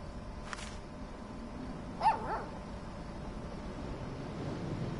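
A puppy in the video game Life is Strange 2 gives a single short, faint yip over a quiet hissing game background, with a soft tone just before.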